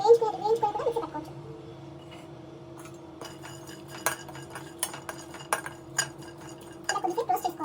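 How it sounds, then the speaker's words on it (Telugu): Peanuts and whole spices are roasted in a pan while a cook stirs them, and a utensil scrapes and clinks against the metal in scattered taps and short bursts, with faint talk in places. "ఇలా కొద్దిసేపు రోస్ట్ చేసుకోవాలండి."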